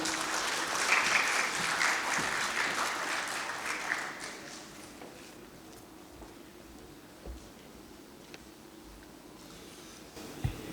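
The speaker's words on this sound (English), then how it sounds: "I would like to warmly welcome with all of our praise and applause" Audience applause welcoming Dr. Ishrat Hussain at the SZABIST International Conference 2024 closing ceremony, a dense burst of clapping for about four seconds that thins into scattered claps and quiet room noise.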